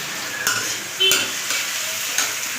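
Bread pulao cooks in a pan with a steady sizzle, punctuated by a few distinct clinks and scrapes of a spatula or spoon against the metal, close up and with no talk.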